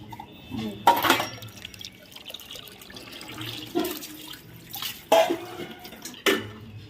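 A mother rinses leafy greens with water in a basin, giving a few sharp splashing bursts spaced a second or two apart over a quieter background of trickling water.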